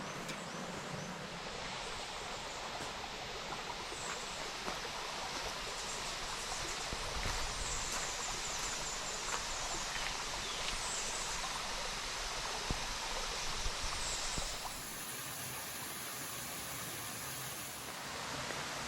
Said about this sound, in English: Diamond Falls has been called one of the most colorful waterfalls due to the colors of the rock it runs over.